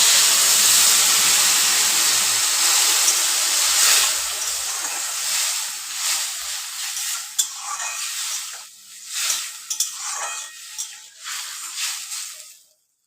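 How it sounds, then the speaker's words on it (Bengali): Half a mug of water poured into a hot pan of spiced vegetables with bitter gourd and potato, bursting into a loud, close steamy hiss that slowly fades and breaks into softer crackles over about twelve seconds. "এই অবস্থায় আমি হাফ মগ ওয়াটার নিয়েছি, ওয়াটারটা অ্যাড করে দেবো।"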